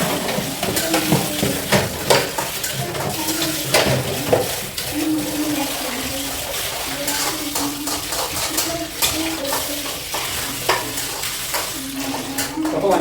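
Food is stirred in a frying pan, with a continuous sizzle under repeated scraping and clinking of a utensil against the pan, close and fairly loud, in an uneven rhythm.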